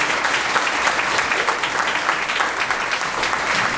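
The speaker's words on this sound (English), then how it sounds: "Let's give a round of applause" A packed room at the Ms. Senior Davie County pageant gives a loud, continuous round of applause, with dense overlapping claps holding steady throughout.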